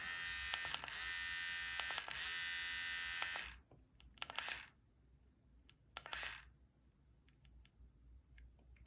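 A Xiaomi rechargeable electric hair clipper runs with a close, steady high-pitched buzz for about three and a half seconds, then switches off, followed by two brief bursts of the motor and some faint clicks.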